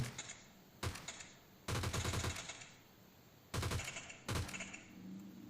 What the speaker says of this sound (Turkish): Yine bize sıkıyorlar herhalde sanırsam